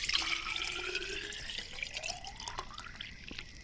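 Hot water pours into a container at a campsite, a continuous splashing trickle whose pitch rises steadily as the vessel fills, heard close up and without talking.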